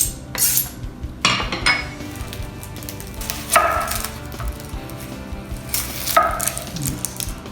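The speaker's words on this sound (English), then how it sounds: "We need to chop 1 onion," A knife chops an onion on a board in a kitchen, giving several sharp clacks and scraping strokes over a steady hum and clinking of utensils.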